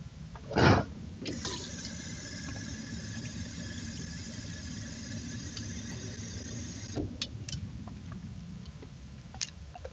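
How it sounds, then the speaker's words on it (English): Water runs steadily into a container for several seconds, a thin continuous hiss and trickle that begins after a brief squeak and stops abruptly, fairly quiet throughout. "Ashton, I'm gonna put water in it and see what it does."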